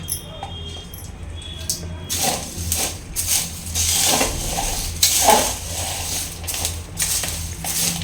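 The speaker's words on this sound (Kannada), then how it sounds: "ಇವಾಗ ಇಷ್ಟನ್ನು ಹಾಕ್ಕೊಂಡು ಇದನ್ನು ಚೆನ್ನಾಗಿ ಮಿಕ್ಸ್ ಮಾಡ್ಕೊಳ್ಳೋಣ" Chili powder and a pinch of turmeric are mixed in a bowl. A spoon clinks and scrapes against the dish in irregular, moderately loud strokes over a few seconds, with a little faint background noise.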